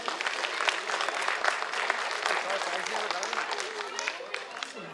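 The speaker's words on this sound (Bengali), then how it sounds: "এদের সকলের জন্য একটা জোরে হাততালি।" Audience applause at an annual arts and culture function with prize distribution, a dense, sustained wash of many hands clapping that stays steady and fairly loud throughout.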